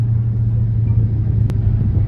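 A Dodge Charger Redeye holds a deep, steady engine rumble at around 1,600 RPM on launch control, loud and close with a brief click partway through.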